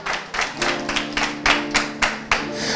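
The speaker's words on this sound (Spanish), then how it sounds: "denle un fuerte aplauso a Dios por eso." A church congregation claps in praise, a few hands close by in a slow, steady rhythm of distinct sharp claps, about four per second, with no talking over them.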